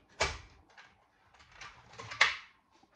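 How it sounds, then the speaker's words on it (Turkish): Two sharp metallic clunks of a pressure cooker's heavy lid being set and closed, separated by quieter shuffling and handling noises. "Ve düdüklü tenceremin ağzını yine kapatıyorum."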